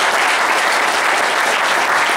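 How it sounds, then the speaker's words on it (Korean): Loud, steady applause from a large audience at a university lecture hall event, continuous clapping filling the whole stretch. "기다리신 김식 회장님께서 네 분의 우리 회장님께 다시 한번 박수 부탁드립니다"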